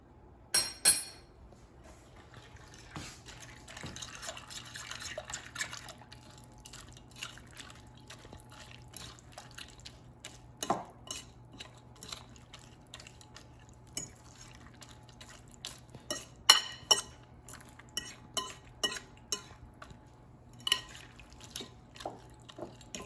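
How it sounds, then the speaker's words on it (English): Raisin bran muffin batter is stirred in a bowl, giving soft, irregular wet taps and occasional spoon clicks against the side, quiet and close, with no talking. "And I'm going to mix everything."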